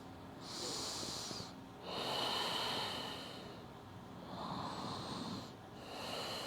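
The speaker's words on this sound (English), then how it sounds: "Breathing here." Deep, slow yoga breathing during a gentle hatha practice at home, with long audible breaths repeating in a steady, unhurried rhythm, close and soft.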